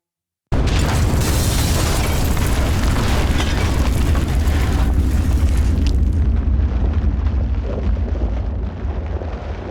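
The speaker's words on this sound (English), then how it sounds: "Fire dump! It's ripped right through the pit." A firedamp explosion tearing through a 1930s coal pit: a sudden, loud, sustained roaring blast that bursts in after a moment of silence and rumbles on heavily before easing slightly toward the end.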